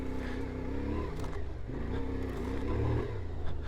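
A CFMOTO Ibex 450 adventure motorcycle's engine drones steadily while riding off road, a continuous close mechanical hum with slight shifts in pitch and no clear talk over it.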